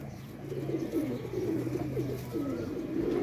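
A Teddy pigeon coos in low, rolling repeated phrases, close and steady, with faint background noise and no voices.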